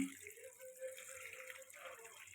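Water is poured into a pot of rice and lentils, making a soft, steady splashing trickle close by that is fairly quiet and continuous.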